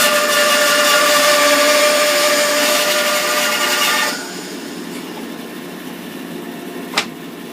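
A Charnwood B350 bandsaw rips hardwood into small strips, whining loudly with a steady tonal hum for about four seconds, then dropping to a quieter idle, with a sharp click near the end.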